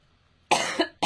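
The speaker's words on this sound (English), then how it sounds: "sorry about the coughing, guys." Two quick, harsh coughs close to the microphone after a moment of near silence, the second cut short at the end.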